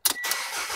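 A 2012 Mitsubishi Outlander car engine starts up. There is a quick, brief crank-and-catch burst, close and moderately loud, that settles straight into an even running hum.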